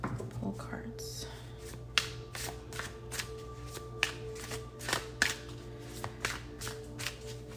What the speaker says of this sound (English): One more shuffle, I promise.